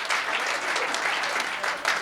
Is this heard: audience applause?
yes